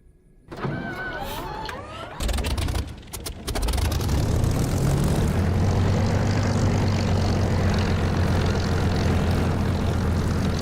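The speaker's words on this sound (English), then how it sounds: "Oh, it's lovely to have this Spitfire engine sound back." A Spitfire's piston engine in the DCS flight simulator, using a replacement engine sound mod, starts with whirring, coughing bursts, then settles into a loud, steady, droning rumble that holds to the end.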